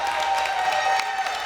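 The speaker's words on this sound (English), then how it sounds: "as the crowd claps for another" Crowd at the Deadman Winter Finals 2017 gaming event claps steadily in a dense, continuous wash of applause that fills the whole moment, loud and close with no voices standing out.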